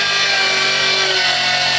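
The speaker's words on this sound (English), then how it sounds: "We're going to use a track saw" Big Makita track saw cutting through a thick maple slab about 2 3/4 inches deep, loud continuous high whining blade noise with a gritty rasp, steady throughout with no talking.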